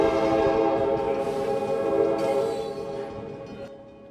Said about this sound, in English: listen for that train horn